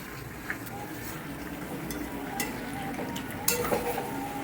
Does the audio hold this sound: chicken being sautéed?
yes